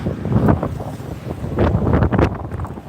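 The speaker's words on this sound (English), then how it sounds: "it's windy even here" Strong wind buffets the microphone in loud, rumbling gusts on a beach in Da Nang, Vietnam, swelling and fading, with a low roar throughout and no voices.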